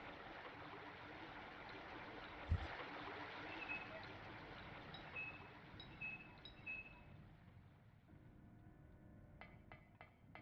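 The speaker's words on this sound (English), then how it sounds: "I love that looping water sound effect." Looping ambient water from the Silent Hill video game, a steady trickling, stream-like wash running continuously at low level, with a brief thump and a few faint high electronic tones and clicks over it.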